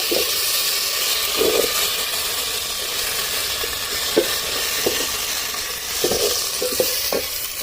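Ginger garlic paste frying in a pan while being stirred, a steady broadband sizzle with occasional scraping strokes of the spoon, close up and continuous, with no voices.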